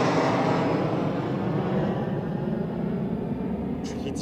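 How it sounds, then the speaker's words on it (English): A Jet2 Holidays airliner departs Newcastle Airport, its engines giving a broad, steady roar close by that holds for several seconds. "Jet2 Holidays on the way out with their training flight back to Prestwick"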